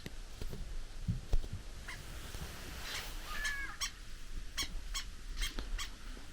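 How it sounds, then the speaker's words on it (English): White-browed sparrow weavers chatter outdoors at a Kalahari campsite with sharp, repeated chirps and calls over a steady background hiss, busy and close. "the noisy white-browed sparrow weavers"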